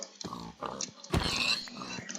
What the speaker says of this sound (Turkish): Bu niye domuz var lan? Çok domuz var bu ormanda.